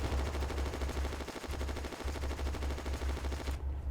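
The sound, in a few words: friendly machine gun fire in video game WW2 Online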